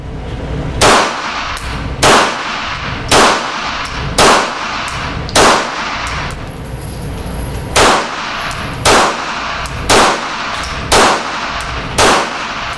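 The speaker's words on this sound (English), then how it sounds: "let me show you a little obligatory range footage here of me actually shooting the gun" Range shots from a stainless Beretta PX4 Storm Inox 9mm pistol: about eleven loud, sharp reports spaced roughly a second apart, each with a brief ringing tail and no talking.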